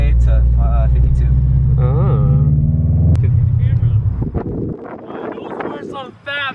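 A Subaru BRZ/Toyota FR-S idles and revs with its exhaust tuned to pop and shoot flames, a loud close engine rumble with sharp crackles, under excited talk.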